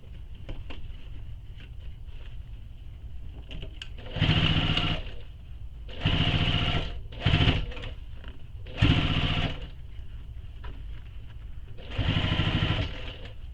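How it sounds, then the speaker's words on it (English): Sewing machine stitching binding onto a belt bag, several short bursts of rapid whirring stitches separated by pauses, close and clear over a quiet background hum. "We're just sewing our binding in place."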